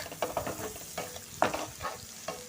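Onion and chili cook with salt in a pan, a close crackling sizzle punctuated by quick, irregular scrapes and taps of a stirring spoon.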